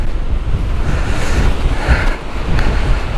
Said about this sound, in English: Some rough, turbulent water.